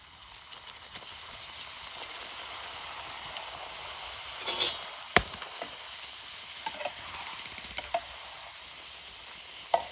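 Puris frying in hot oil over a campsite stove, giving a steady close sizzle with scattered sharp pops and crackles throughout.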